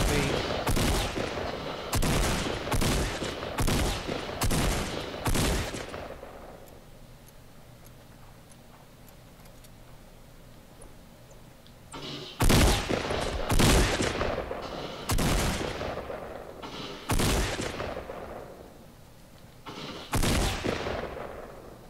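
Rapid bursts of gunfire in the battle royale game Fortnite, loud sharp shots in quick series, then a quiet stretch before scattered single shots resume, with no talk over them.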